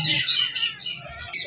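Green ring-necked parakeet chicks at a busy Sunday bird market in Bahawalpur, giving shrill, rapid squawks and chirps up close in a continuous chatter.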